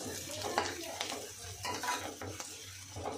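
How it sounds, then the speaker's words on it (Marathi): Peanuts stir-fried and dry-roasted in a pan for a chutney, a steady low sizzle broken by scraping stirs of a spatula against the metal, close and moderately loud with no voices. "आपण याच्यामध्ये हे शेंगदाणे घालून घेऊया पहिले आणि याला परतून घेऊया छानपैकी"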